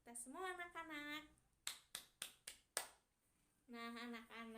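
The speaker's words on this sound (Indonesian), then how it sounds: "Beri tepuk tangan untuk yang sudah menjawab dan untuk kita semua anak-anak" A short burst of five sharp hand claps, evenly spaced and close, set between stretches of someone speaking in a classroom lesson for children.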